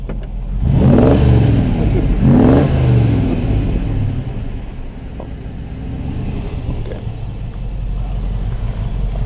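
Daimler V8 saloon, Jaguar Mark 2-based, recorded close at the exhaust: two deep throttle blips early on, then the engine settles into a smooth, low, steady rumbling idle.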